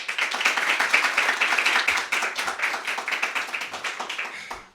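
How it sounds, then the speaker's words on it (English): An audience at a poetry reading claps for a reader, close, brisk applause with many rapid overlapping claps that keeps a steady pace for several seconds before fading out. "Everyone clap so hard for Tylyn Johnson"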